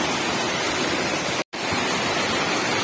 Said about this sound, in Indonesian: Ini tiba-tiba airnya terus kawan. Kayaknya ada yang lagi bongkar kolam.